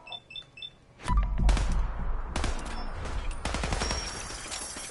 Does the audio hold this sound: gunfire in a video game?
yes